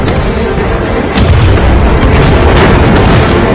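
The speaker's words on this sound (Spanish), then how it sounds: "realizando un disparo tras otro" Heavy cannon fire from a Civil War ironclad's revolving turret, a dense rumbling barrage with several sharp booms landing in quick succession, loud and close throughout.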